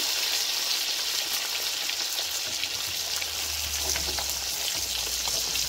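Hilsa fish fries in hot oil with a dense, steady hiss and crackle throughout, close and fairly loud, with no one speaking.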